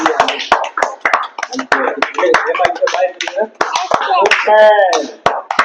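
Young schoolchildren clap in a brisk burst of quick, sharp hand claps over several seconds in a classroom, mixed with voices talking and cheering close by.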